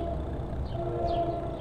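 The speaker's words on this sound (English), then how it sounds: "There's a train," A train runs close by near Hawthorne train station in New Jersey, a brief, steady rumble with a faint high tonal note over it, heard from a nearby street while cycling.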